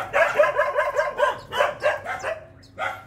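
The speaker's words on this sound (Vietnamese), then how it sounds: "Mấy con chó này cắn ghê quá." Several dogs bark repeatedly at a garden house in the countryside, close and loud, with rapid overlapping yaps and barks in bursts separated by brief gaps.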